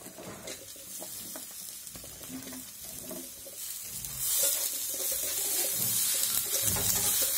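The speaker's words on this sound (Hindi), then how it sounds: "अब इसमें मूली डाल देंगे इसको थोड़ा भून लेंगे चम्मच चला लेंगे" Radish pieces being stir-fried in a pan for a bitter gourd, bean and radish vegetable dish, with soft sizzling and scraping spoon strokes that grow louder and hiss more steadily midway.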